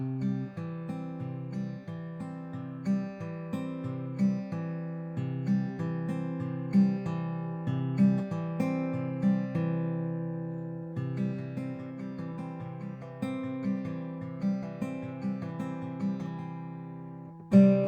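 A steady acoustic guitar fingerpicking pattern, individual plucked notes rolling in a repeating rhythm, close and clear with no voices.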